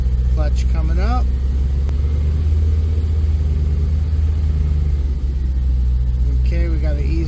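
2002 Camaro SS with a manual gearbox as the clutch engages and the car begins pulling away: a deep, steady V8 rumble close by, with brief voices at the start and the end.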